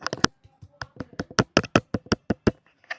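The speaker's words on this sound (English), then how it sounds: "Let's clap for her." A few people clap in a small room, sparse and uneven individual hand claps spaced irregularly, close and dry, not a full crowd.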